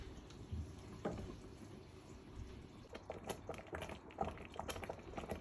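A yam fufu mixture simmers in a pot over low heat. Soft, quiet bubbling grows into scattered irregular pops and gurgles in the second half.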